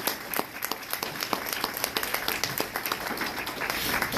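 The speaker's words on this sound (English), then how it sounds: "Can we give her another round of applause, please?" An audience at a youth leadership event breaks into sustained applause, with dense crisp hand claps rolling steadily throughout and building slightly toward the end, with no voices over it.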